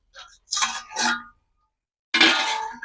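A lid set over a pot of basanti pulao, a few sharp metallic clinks and scrapes close by, then a brief pause and a longer rattling clatter as it settles.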